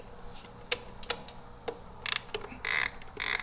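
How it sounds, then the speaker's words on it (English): A T27 Torx bit on an extension backs out bolts during an air intake install, giving sparse ratcheting clicks and short metallic bursts that grow busier toward the end, close by and fairly quiet. "I got the T27 Torx bit, an extension on here to take off two more bolts"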